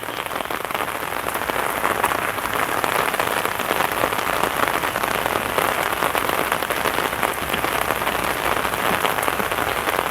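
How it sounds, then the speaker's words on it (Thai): Steady rain pours down outdoors in Phatthalung, Thailand, a dense, even hiss of drops hitting the ground, constant and close throughout with no voices. "นี่ฝนตกนะครับ"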